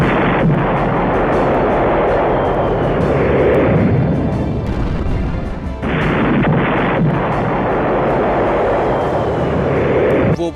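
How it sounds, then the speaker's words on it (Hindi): Explosions from drone-dropped bombs hitting targets one after another near Horlivka, a loud, continuous roar of heavy blasts and rumbling gunfire that fills the whole stretch with only brief dips. "यूक्रेन की 59वीं मोटराइज्ड और 46वीं एयर मोबाइल ब्रिगेड ड्रोन से एक के बाद एक टारगेट पर बम से हमला कर रही है।"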